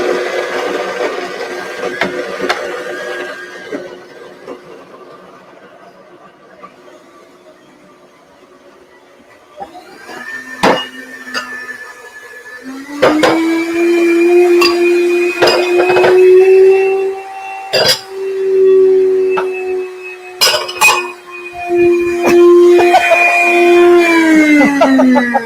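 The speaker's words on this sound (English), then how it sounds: "I'm going to blend it one more time." A blender churns thick oat flour batter, starting with a quieter whir, then ramping to a loud, steady high-pitched motor whine that strains and dips in pitch as the mixture thickens, with clicks and knocks scattered throughout.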